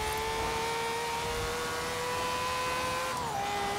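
A single engine of a Nissan Silvia S15 in a video game holds a very high, steady rev past 10,000 RPM with a thin whining tone, then the pitch dips slightly near the end; no talking.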